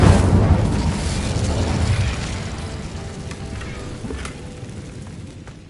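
Incendio fire spell explosion in the Hogwarts video game, a loud burst of roaring, crackling blast that starts at full strength and slowly fades into a sustained rumble, with no talk.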